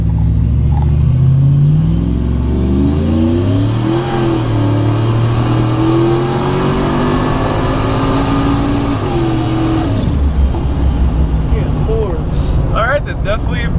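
A procharged Chevrolet Trailblazer accelerates hard, its engine rising in pitch through the revs with a rising supercharger whine, then shifting, loud and close inside the cabin, with people talking over it.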